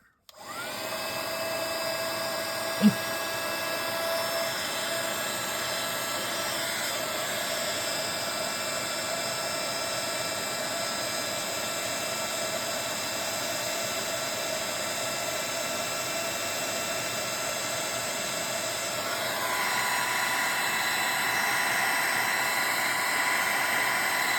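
A heat embossing tool blows a steady, loud hot-air roar from underneath a piece to melt embossing powder and set star embellishments, running continuously with a small click near the start and a slight rise in level toward the end.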